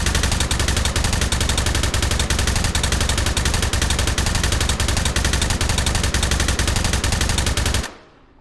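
An M249 machine gun loaded with a quad-stack 100-round Tombstone magazine fires in the H3VR game, one loud, continuous, rapid burst lasting about eight seconds before stopping abruptly.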